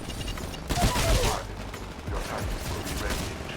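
Smart pistol gunfire in Titanfall sounds as a dense burst of rapid mechanical shots under continuous game noise, with a second, fainter stretch of firing afterward.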